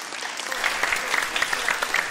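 Audience applause at a Romanian stand-up comedy show, a sustained crowd clapping with scattered sharper individual claps, fairly loud and continuous, with no speech over it.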